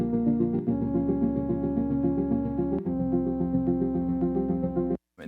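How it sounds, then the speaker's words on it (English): Pop backing track from a song as a low bass line enters in the pre-chorus under sustained harmonic chords, steady and loud with brief cuts between sections, no talking. "And then a little bass comes in on the pre."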